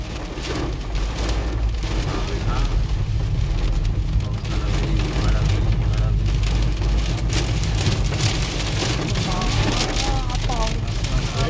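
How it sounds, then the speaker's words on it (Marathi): Heavy rain pours down in a dense, constant roar, with voices talking beneath it throughout. "जबरदस्त पाऊस आला."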